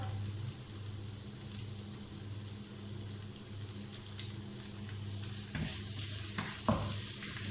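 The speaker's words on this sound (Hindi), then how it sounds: "हम अच्छी तरह फ्राई कर लेंगे।" Beef in masala sauce fries in a pan with a steady, soft sizzle, while a spoon stirs and scrapes now and then and a few sharper clacks land near the end. No one speaks.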